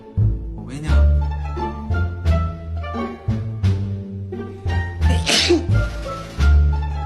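Several short sneezes burst out between music and a group's chatter, each one quick and loud against the busy background.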